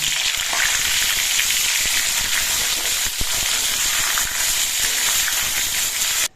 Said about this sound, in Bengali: এবার তেলের মধ্যে পটলগুলো দিয়ে দিচ্ছি